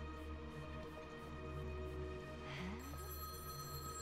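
Faint electronic telephone ringing in a video game set in frozen woods, a thin steady tone sounding over low background hum and a quiet game soundtrack.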